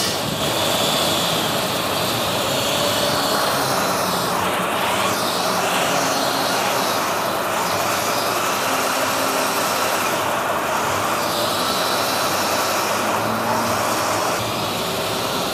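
Hi-Winch X-18000 electric winch, a 30-ton unit, hauling a 10-wheel truck up onto a tow truck; loud, continuous whining motor and strained mechanical roar, steady throughout with no talking.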